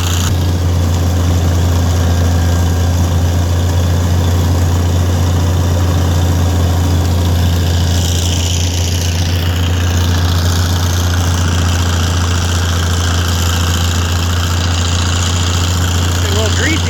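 An International Harvester 806 tractor idles without a muffler, a loud, steady low-pitched engine rumble with constant throbbing drone that runs unbroken from start to finish outdoors.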